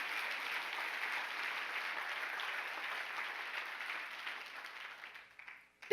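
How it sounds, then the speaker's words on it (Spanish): A church congregation at a sermon in Rome gives a long, steady round of applause, dense and even throughout before tapering off just at the end. "Dale fuerte el aplauso al Señor."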